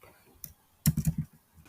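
Typing on a computer keyboard: a lone keystroke, then a quick burst of four or five close clicks, followed by a couple of softer taps.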